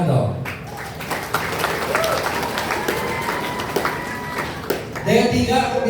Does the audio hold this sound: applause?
yes